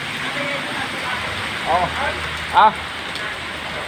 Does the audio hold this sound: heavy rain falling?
yes